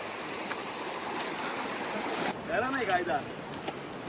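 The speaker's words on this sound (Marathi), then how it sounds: "नदी ओलांडून जाऊची" Steady broadband rush of a flowing stream, with a voice briefly rising over the water in the second half.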